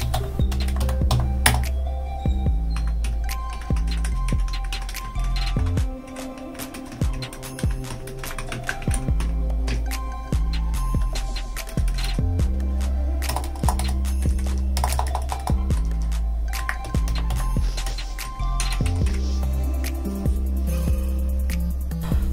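Continuous fast typing on a low profile gaming keyboard, dense close clicking keystrokes running steadily throughout with occasional heavier presses, no voices.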